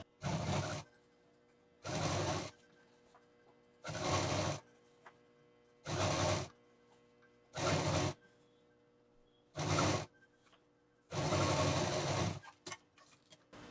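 Domestic sewing machine stitching a lightly folded fabric edge, seven distinct bursts of rapid mechanical whirring separated by short pauses, close and clear.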